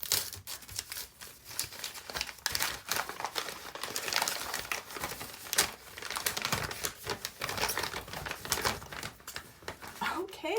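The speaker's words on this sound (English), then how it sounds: "This is like industrial Scotch tape." A book bag sealed with heavy industrial Scotch tape is torn open, giving a steady run of crinkling, ripping and crackling under a few quiet spoken words.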